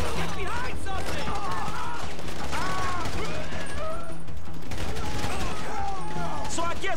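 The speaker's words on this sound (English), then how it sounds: "So I guess we're shooting our way out of here." Gunfire rattles through a shootout in the video game GTA 5, with dense, loud bursts of automatic shots and crashes continuing without pause, mixed with shouting voices.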